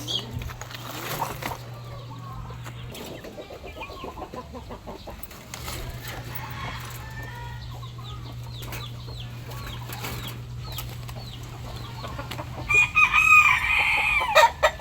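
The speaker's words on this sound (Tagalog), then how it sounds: "Meron tayong apat na inahin dito, no. Tsaka isang dandang." Four hens cluck softly throughout, and near the end a rooster crows loudly nearby.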